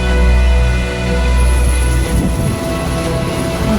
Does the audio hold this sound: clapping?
no